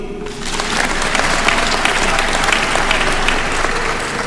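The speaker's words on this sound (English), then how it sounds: "Can't you clap again?" A large graduation crowd at the University of Eastern Africa, Baraton, breaks into loud, dense applause that starts almost at once and holds steady throughout, with many hands clapping together.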